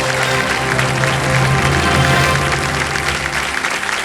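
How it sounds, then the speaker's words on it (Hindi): A studio audience at a quiz show applauding, dense, loud sustained clapping from many hands filling the room, without any talking over it. "वो ताली बजाने जा रहे थे ना आप,"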